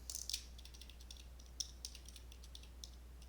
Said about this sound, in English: when you are typing stuff into your calculator